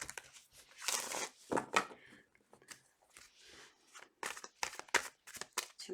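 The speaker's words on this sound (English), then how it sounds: "Two more shuffles." Crisp, irregular papery riffling and slapping of tarot cards being shuffled, in several quick bursts, close and fairly loud, with no talking.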